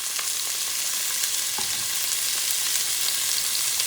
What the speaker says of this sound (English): what you're going to do, you're going to stir things around